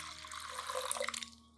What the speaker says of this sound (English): add 200 milliliters of clean, room temperature water to dilute the solution.